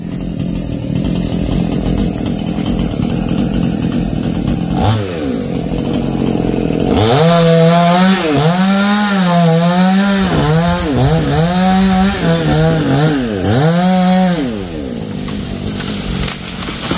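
A chainsaw cuts through trees in hot weather. The engine revs loudly and up and down in repeated swells, near and continuous, after a steadier idle at the start.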